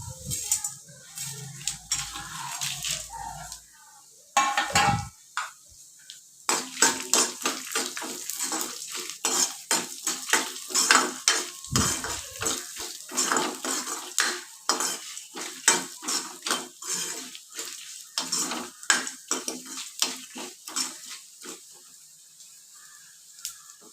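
Chana dal, coriander seeds, tamarind, dried red chilies and cumin dry roasting in a pan, with repeated scraping and clinking of a metal spoon against the pan in an irregular stirring rhythm, close and fairly loud.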